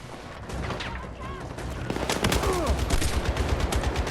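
Bots open fire in the Battlefield 6 video game, with rapid overlapping bursts of gunfire that grow denser and louder through a night raid, over a dense background of battle noise.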